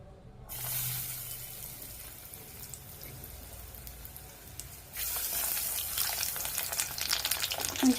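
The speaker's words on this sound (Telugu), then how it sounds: "సో ఇప్పుడు వీటిని డీప్ ఫ్రై చేసేసుకుందాం." Corn kernels deep frying in hot oil on low heat, a quiet sizzle that jumps to a louder, denser crackle as more pieces drop in, continuing steadily to the end.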